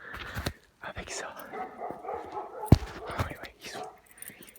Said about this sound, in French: On va faire demi-tour pour éviter que les chiens aboient de trop.